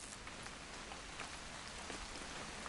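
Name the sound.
rain falling, from the video game What Remains of Edith Finch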